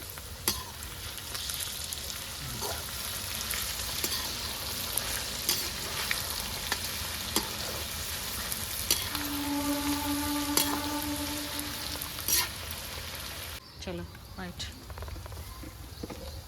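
Mutton for a pickle fries in a pan with turmeric and ginger garlic paste, a steady crackling sizzle with occasional clicks and stirring knocks, while a person talks at times.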